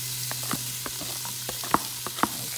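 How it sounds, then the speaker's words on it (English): Diced onion in olive oil sizzles softly in the base of a pressure cooker, a low steady hiss with scattered small pops and crackles, fairly quiet and without talk. "And next, I'm gonna put in my onions."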